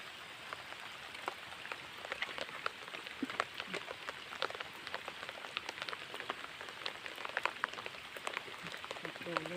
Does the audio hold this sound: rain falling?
yes